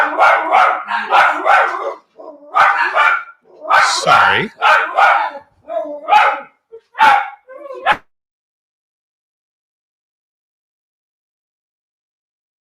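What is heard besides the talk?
dog barking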